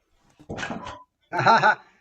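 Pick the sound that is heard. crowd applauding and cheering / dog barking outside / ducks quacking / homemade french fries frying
dog barking outside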